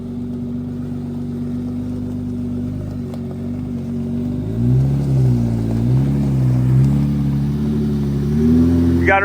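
Off-road vehicle engine in four-wheel-drive low range crawling over rocks at a testing ground, a steady low rumble that swells and surges in gentle waves of revving toward the end.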